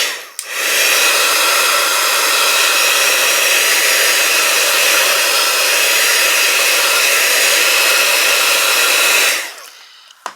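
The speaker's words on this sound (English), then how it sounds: "I won't talk when this heat gun's on." A heat gun blows loud and close, drying ink on a card with a steady, even roar that starts abruptly, holds for about nine seconds, then cuts off.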